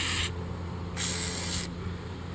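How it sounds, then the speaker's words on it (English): CRC lubricant sprayed from an aerosol can onto lug nuts while winterizing a Yamaha jet boat: two short, close hissing bursts separated by a brief gap, with no talking. "we want to take some CRC, all right, like we've been using, and we want to give a good coating on our lug nuts"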